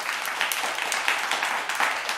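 Clapping during a live music stream comes as a dense, steady patter of applause that continues evenly without talking.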